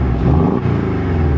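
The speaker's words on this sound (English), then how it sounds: "Then here's the sport exhaust in the loud setting." Short rev of a 2019 Porsche 718 Boxster with the sport exhaust in its loud setting, a dense, close engine growl that holds steady with a brief dip midway, no talk over it.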